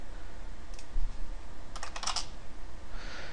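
Keys tapping on a computer keyboard during a slow, lagging virtual machine session, with a few soft isolated clicks and then a brief quick burst of typing, close and moderately quiet.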